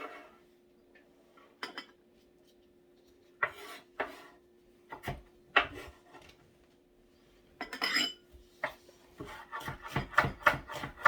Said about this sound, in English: These I just kind of rough chop.